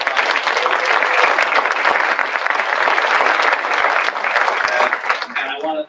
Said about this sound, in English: let's give David and our panelists all another round of applause.